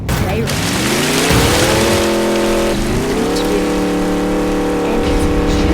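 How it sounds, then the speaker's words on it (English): Bugatti Veyron engine in the Mad City video game, loud, sustained revving with two rising pitch sweeps, under a steady roar with talk over it. "There's a Bugatti Veyron."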